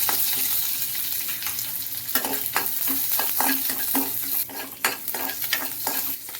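Mustard seeds, curry leaves and green chillies sizzle and spit in hot oil for a potato sagu, a steady close frying hiss broken by sharp crackles and pops, with a spoon stirring through the pan.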